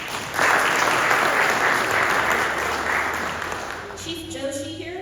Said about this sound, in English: let's give a round of applause to Chief Mitchell